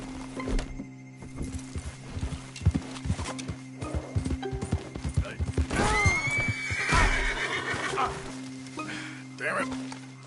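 Horse hooves clip-clop at a gallop in Red Dead Redemption 2, with a loud whinny near the middle, over background game sounds and speech.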